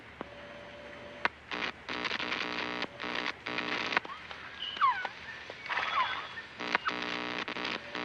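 A phoenix bird calls within the jungle setting of Metal Gear Solid: Peace Walker, giving a few chirping, warbling notes of moderate loudness over a busy bed of game music and ambience, with no talking.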